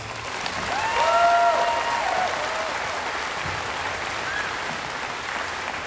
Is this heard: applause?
yes